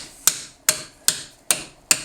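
A small plastic hammer tapping a coin ring fitted over a piece of PVC pipe, five evenly spaced, crisp, bright strikes about every 0.4 seconds, each ringing briefly, close and loud with no talk.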